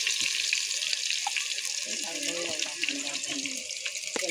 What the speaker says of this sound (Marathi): आता मसाला मस्त तेलामध्ये फ्राय करून घेतो मी